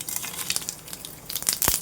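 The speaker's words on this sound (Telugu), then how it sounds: "చక్కగా చిట్టపట్లు పడుతున్నాయి." Mustard and other tempering seeds crackle and pop in four teaspoons of hot oil in a pan, a close, irregular spattering of sharp little bursts with no talking.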